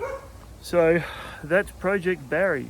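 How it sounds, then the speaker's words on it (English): A dog barks several times in quick succession close by, a sharp yappy burst, while someone talks over it. "Excuse the dog barking"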